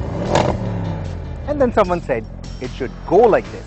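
Someone speaks briefly, then an Audi RS6 Avant station wagon with a 4-litre bi-turbo V8 revs in several sharp, rising bursts close by.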